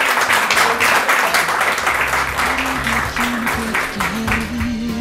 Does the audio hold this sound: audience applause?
yes